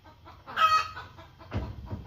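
Chickens cluck nearby in two short bursts, one louder than the other, with quiet barnyard ambience between them; no voices.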